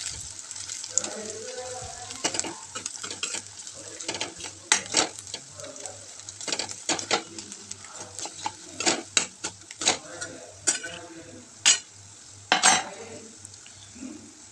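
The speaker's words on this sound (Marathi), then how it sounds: "आपण त्या फोडणीमध्ये टाकून घ्यायचं आहे" Ground moong is stirred into a hot oil tempering in a pan, with repeated sharp spoon scrapes and clatters over a low sizzle and a faint steady hum, close and uneven in rhythm.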